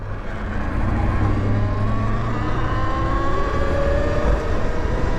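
A Talaria electric dirt bike accelerates at full throttle on a road, a steady rising whine over heavy wind rush and road noise that holds loud and close throughout.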